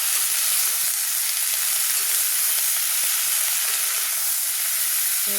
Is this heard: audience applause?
no